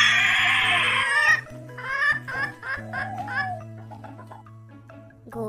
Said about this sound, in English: Hen says cluck cluck.